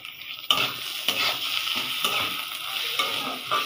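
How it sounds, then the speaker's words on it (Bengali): Rice fries in a pan with ginger-garlic paste, a steady sizzle broken by repeated scrapes and clinks as it is stirred with a utensil, close and without voices. "এখন এগুলোকে ভাজবে।"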